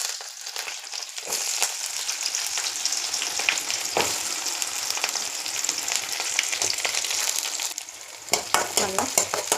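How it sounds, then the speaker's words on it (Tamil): Mustard seeds crackling in hot oil, a dense close sizzle with sharp pops and stirring scrapes, louder bursts near the end and no talk. "இப்போ நம்ம கடுகு போட்டுக்கலாம்."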